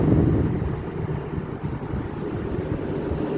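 A 1962 General Electric Lo Thinline window air conditioner runs with its fan pushing air past dirty coils, giving a steady, close, broadband rushing whoosh with no pauses and no talking.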